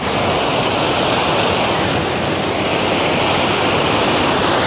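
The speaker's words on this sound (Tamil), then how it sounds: "ஆர்ப்பரித்த கொட்டும் அருவி எப்படி நல்லா இருக்குதுங்களா?" A roaring waterfall at Thamaraipakkam dam near Chennai pours in a dense, steady wash of white noise, loud and unbroken throughout.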